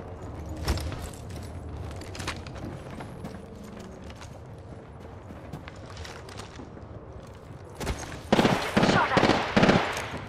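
Gunfire in a shooter video game, with sparse shots early and then a loud cluster of rapid bursts near the end amid ambient game noise.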